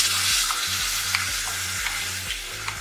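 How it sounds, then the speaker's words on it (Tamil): Ginger garlic paste sautés in a pan with a bright, continuous sizzle, broken by several soft scraping stirs of a spoon. It sounds close, and no one talks. "இஞ்சி பூண்டு பேஸ்டோட பச்சை வாசனை போகிற வரை நல்லா வதக்கிக்கோங்க"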